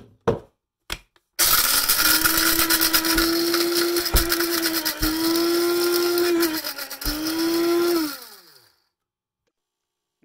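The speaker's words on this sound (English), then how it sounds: "You just load it into the grinder, fire it up, and go." A loud electric spice grinder grinding spices whirs steadily for several seconds, its pitch dipping briefly twice before it winds down and stops, after a couple of short knocks.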